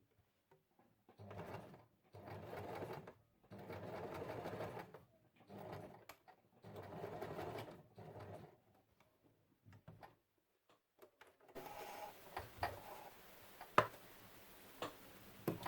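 A home sewing machine running a seam on baby overalls, ticking rapidly in several short bursts separated by pauses, followed by quieter handling clicks.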